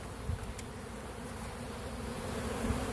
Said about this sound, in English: Now see how the bees are spread out here?